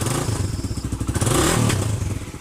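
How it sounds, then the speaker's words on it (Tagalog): A Suzuki Raider 150 carburetor motorcycle idles close by, its engine pulsing in a steady rapid putter with mechanical clatter and a slight swell in revs partway through, loud and without speech. "sobrang ganda pa talaga ng takbo ng makina ng motorsiklo na to"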